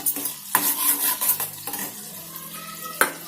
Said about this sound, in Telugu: బటర్ కరిగింది.